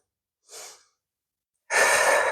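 Deep breaths during a yoga practice: a soft inhale, a pause of silence, then a louder, fuller breathy exhale, close and without talk.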